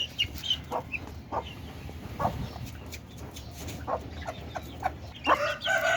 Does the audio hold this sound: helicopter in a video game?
no